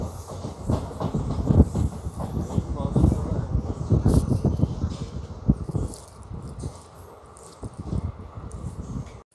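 A Secunderabad–Siddipet MEMU train rolls into Medchal railway station, its rumbling wheels clattering rhythmically over rail joints nearby while a person talks over the noise.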